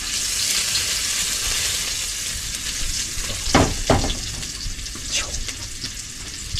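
Onions fry in a hot pan with a steady loud sizzle, and a couple of brief scraping stirs rise above the constant hiss.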